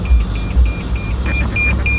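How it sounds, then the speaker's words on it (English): Steady repeating electronic beeps from the reverse parking sensors of a 2014 Toyota Tundra 5.7L V8, sounding at a quick even rhythm inside the vehicle over a low engine hum. "That's the beeping noise. And it's showing you what sensors you're close to."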